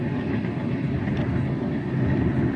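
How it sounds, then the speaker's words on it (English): A steady, loud low rumble of a long train rolling past nearby along the Tennessee River, with continuous rail noise and no speech. "here's another train."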